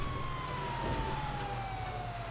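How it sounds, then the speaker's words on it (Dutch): A police car siren in the video game Grand Theft Auto 5 Online wails steadily and loudly, a sustained tone sliding slowly downward over a low rumbling engine. "ik zet even mijn sirenes uit"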